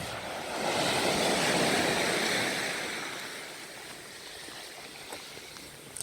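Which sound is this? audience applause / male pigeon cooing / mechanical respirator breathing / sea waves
sea waves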